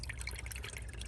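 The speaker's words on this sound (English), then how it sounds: "Obviously coolant's going to flow out." Coolant drips and trickles steadily from a BMW F11 intake as its parts are pried apart, a faint, close liquid patter lasting about a second.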